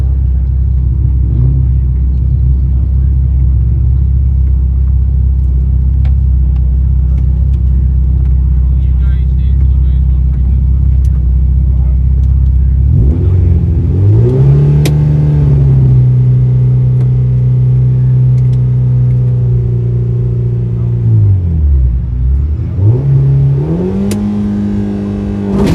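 A 1998 Honda Civic launches in a drag race against an Audi: a steady low idle rumble, then a loud engine roar climbing through the gears, with a brief dip and a renewed rise near the end.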